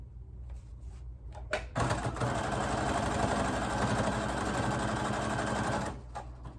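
A sewing machine stitches fabric for a homemade face mask. A few short taps come first, then a loud, close, continuous mechanical whir runs for about four seconds before slowing to a stop.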